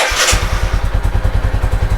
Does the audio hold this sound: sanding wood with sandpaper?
no